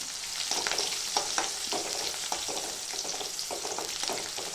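Garlic fries in oil for a green bean vegetable dish, giving a steady close sizzle with soft scraping stirs and small crackles throughout, with no voices.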